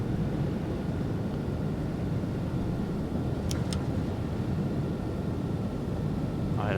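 A DC-3 airplane on approach to land at Lukla in the Himalaya gives a constant loud broadband roar of engines and rushing air, steady throughout with no voices.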